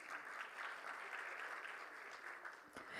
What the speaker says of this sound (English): I think this calls for a huge round of applause